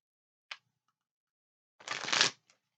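Tarot cards shuffled for a reading: a short riffle snap, then a longer, louder burst of cards rippling together, close and dry with no voices.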